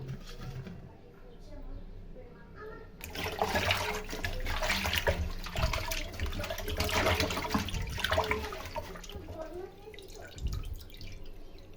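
Water splashes and trickles steadily as fish is rinsed in a home kitchen, a close, continuous wash with some dripping and clattering.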